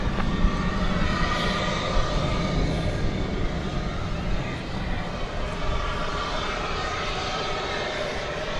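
A UPS heavy jet airliner takes off at DFW Airport at night, its engines a loud, steady broadband roar that holds strongly throughout with no voices.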